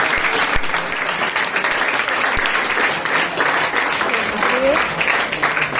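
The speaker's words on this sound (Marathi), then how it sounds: "त्यांच्यासाठी सुद्धा एकदा जोरदार टाळ्या" An audience at a student felicitation ceremony claps loudly and continuously in a hall for honoured students, with a few sharper claps standing out.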